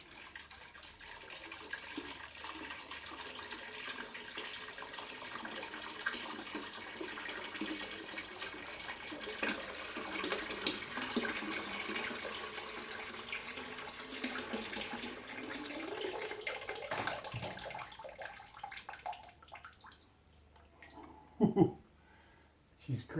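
Water runs steadily into a large container on a glue test rig, a continuous gushing stream that shifts in tone as the vessel fills, followed by a few sharp knocks near the end.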